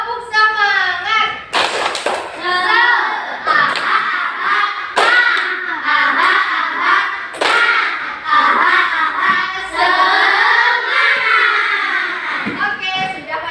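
A third-grade class in an Indonesian classroom performs a rhythmic spirit clap, children's voices chanting loudly in unison, punctuated by sharp, patterned hand claps in a quick beat.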